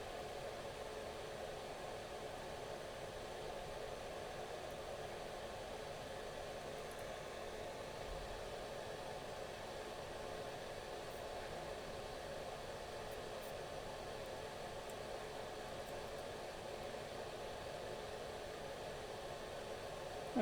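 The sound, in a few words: fume extractor fan running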